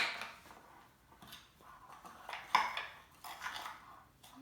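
A utensil scrapes and knocks against a bowl while stirring salt dough, giving irregular clinks and scraping strokes in uneven bursts, fairly quiet and close.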